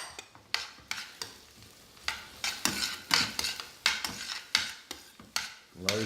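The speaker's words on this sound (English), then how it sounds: "And then we're going to add in our mushrooms." Mushrooms tipped into a pan of softening onions and stirred, a series of scraping spatula strokes and clinks over a soft, steady sizzle, close and moderately loud with no talking.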